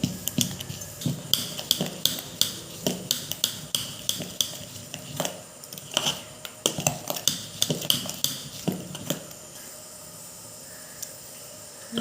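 A spoon clinks and scrapes against a vessel while fermented dosa batter is stirred, with quick irregular taps that thin out near the end.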